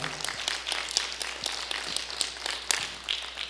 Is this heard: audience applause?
yes